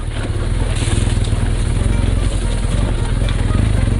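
A BMW R1200GS boxer-twin engine runs steadily while riding, a close, rhythmic low throb over continuous wind rush, with no talk.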